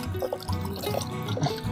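Jackfruit pieces are swished and rinsed in water, a continuous close sloshing and splashing with small drips throughout.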